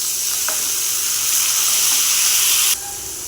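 Curry leaves and dried red chillies sautéing in a pan, giving a steady, loud sizzle and hiss that carries evenly throughout, then drops off slightly near the end.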